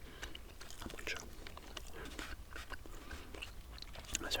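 Close-up chewing of PK chewing gum, with moist, crunchy bites and jaw clicks repeating steadily, mixed with soft whispering throughout.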